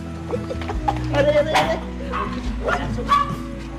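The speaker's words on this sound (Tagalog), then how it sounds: "May aso dito, malaki." A large dog barks a few times in deep, loud bursts, with people talking nearby and a steady low hum underneath.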